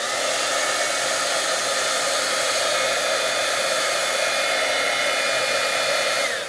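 Heat gun blasting steadily at close range while embossing powder is set on a handmade Stampin' Up! sympathy or Christmas card, a loud continuous airy roar with no talk throughout.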